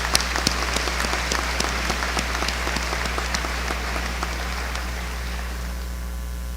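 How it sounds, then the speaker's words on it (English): A graduation ceremony audience applauds for several seconds in a large hall, dense clapping that thins and fades toward the end, with no speech over it. "giving them a round of"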